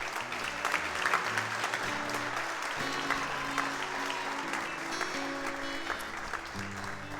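A church congregation claps loudly and steadily, with low organ-like music tones sustained underneath the applause.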